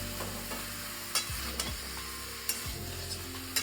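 Chicken stew is stirred in a pot after salt goes in, a quiet continuous sizzle punctuated by four sharp spoon knocks and scrapes against the pot, close by and unaccompanied by talk.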